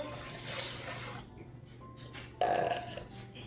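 White vinegar splashes from a container into a big pot of water for a pickle brine, a short, bright pouring gush that begins abruptly and fades over about a second, with kitchen background hum.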